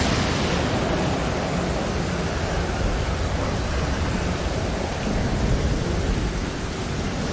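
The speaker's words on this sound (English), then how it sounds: "I could barely hear myself think right now with this damn storm." A loud, steady storm roar in the survival game Stranded Deep, dense wind and rain noise filling the whole stretch without pause or distinct thunderclaps.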